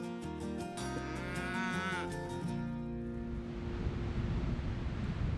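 Norman dairy cows on a French farm, producing loud, drawn-out moos for about three seconds before the sound gives way to a steady, wash-like hiss similar to surf.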